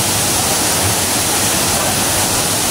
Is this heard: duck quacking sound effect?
no